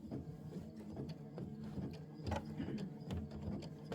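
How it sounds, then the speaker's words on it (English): A Kimberbell embroidery machine stitches a star pattern, a close, fast mechanical chatter of the needle with rhythmic whirring and clicking from the moving hoop. "Now it's doing the stars. We've got 20 minutes of stitching."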